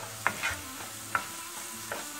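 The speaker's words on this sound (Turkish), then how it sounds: "Karıştırıyoruz." Peppers and onions stirred in a frying pan, with a few soft scraping stirs over a low, steady sizzle.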